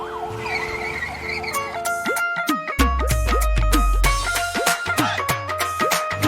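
A yellow ambulance's siren wails loud and close through chaotic Bombay street traffic, its repeated rising and falling sweeps cutting over a heavy low engine rumble and the steady hum of surrounding vehicles.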